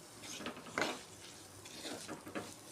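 Spice powders fry in hot oil in a pan for a fish pollichathu, giving a faint, quiet sizzle broken by a few scraping stirs and light utensil clinks.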